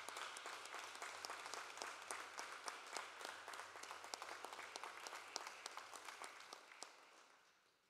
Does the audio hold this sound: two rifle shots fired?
no